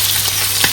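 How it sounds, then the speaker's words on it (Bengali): Fish fries in a pan with a dense, close sizzle and a couple of brief spatters in this short moment. "ফিশ ফ্রাই করতেছি, অনেকদিন পর ফিশ রান্না করতেছি।"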